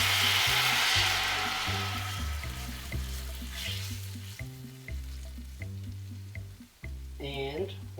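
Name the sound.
sweet and sour sauce sizzling with garlic in a pan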